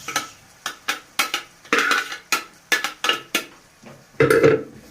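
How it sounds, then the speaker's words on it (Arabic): Grated carrots are stirred in ghee and oil in a pan, giving a series of sharp metallic utensil scrapes and clinks against the pan, irregular and close, with no talking. "وندي الجزر تقليبه في السمنه والزيت كده مكان الفراخ"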